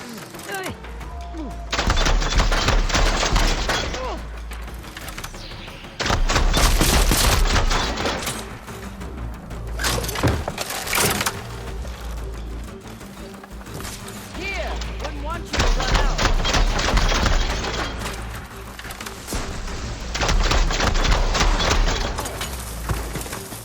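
Repeated bursts of gunfire in the video game Horizon Forbidden West, loud, dense volleys in several long sustained stretches separated by brief lulls, with game voices and music underneath.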